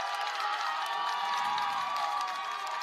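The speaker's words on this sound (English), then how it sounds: "Fans cheering below us here." Football fans cheering in the stands at a game against Dean: a steady, dense crowd roar heard from some distance, with no pauses over the whole stretch.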